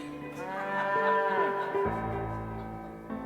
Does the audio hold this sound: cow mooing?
yes